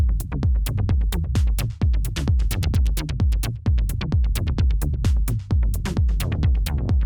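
Techno bass line synthesized in Ableton Analog, a loud, driving sequence of punchy, plucked low notes in a fast steady rhythm with bright filtered tops, playing alone without any voice.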